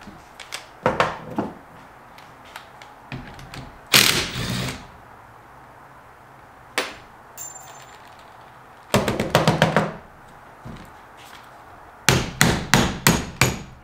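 Hammer blows during a wiper repair on a GMC Terrain: sharp metallic strikes, close and loud, coming in quick bursts of several hits separated by quiet pauses.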